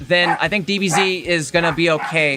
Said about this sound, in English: Sorry for my dogs freaking out.